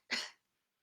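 A cartoon turtle gives a single short, breathy cough, close and clear, followed by silence.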